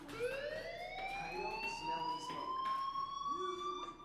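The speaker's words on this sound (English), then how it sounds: "Hey, do you hear that fire alarm?" A wailing fire alarm in the video game Life is Strange, a rising electronic siren tone sweeping upward and holding, steady and moderately loud with faint background noise.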